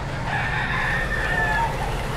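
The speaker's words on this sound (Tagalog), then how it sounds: "pero nandito pa rin yung mga manok" A rooster crows in a long, loud, drawn-out call among clucking chickens at the Bocaue pet market, with steady rain hissing throughout.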